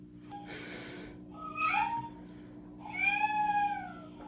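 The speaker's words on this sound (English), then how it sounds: "that's the clock. It meows on the hour" A clock meows on the hour, twice, short and tonal like a cat's cry, over a low steady electrical hum with no talking.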